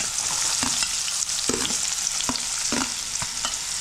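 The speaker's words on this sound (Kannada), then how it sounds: "ಇದಕ್ಕೆ ನಾವು ಮೇನ್ ಇವಾಗ ಪಲಾವ್ ಎಲೆ ಮತ್ತು ಈರುಳ್ಳಿ ಫಸ್ಟ್ ಹಾಕ್ಕೊಂತೀವಿ." Bay leaf and onion sizzle in hot oil over a medium flame, a loud, continuous hiss of frying with soft clicks and scrapes of stirring scattered throughout.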